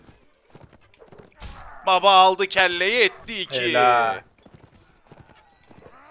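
Horse hooves clip-clop in Mount & Blade: Warband during online multiplayer castle defence. A loud, drawn-out whinny-like cry runs through the middle, and someone talks throughout.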